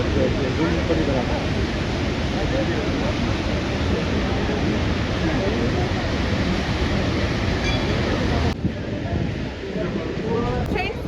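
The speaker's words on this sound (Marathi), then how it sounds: "किती प्रचंड वेग आणि केवढा भयंकर आवाज येतो त्या पाण्याचा" Roaring, rushing water at the source of the Saraswati river at Mana pours as a dense, loud, unbroken roar for the whole stretch, with a brief dip near the end.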